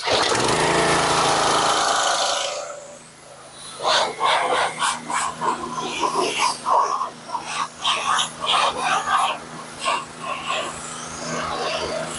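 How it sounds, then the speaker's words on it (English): A pressure washer cleans drywall dust off a portable generator: a loud, steady engine-driven roar for a few seconds, then choppy bursts of spraying and hissing that start and stop irregularly. "So I'm going to go ahead and pressure wash it off."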